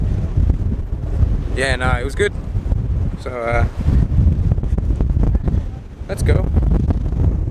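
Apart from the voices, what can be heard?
wind blowing outdoors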